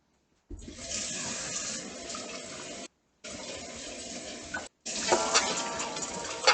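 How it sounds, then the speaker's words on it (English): Water pours into a water filter in a home kitchen, a steady rushing splash in three separate bursts with short silent pauses between them. "We're gonna put some more water to filter."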